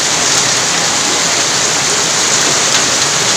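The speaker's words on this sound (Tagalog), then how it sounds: "sa sobrang lakas ng ulan" Heavy rain pours steadily, a loud, dense hiss of drops striking surfaces close by, unbroken throughout with no voices.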